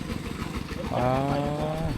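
A farm tractor loaded with people heads out on a rural road in Laos during the rainy season, its engine running with a steady low drone that rises in pitch partway through, close and fairly loud.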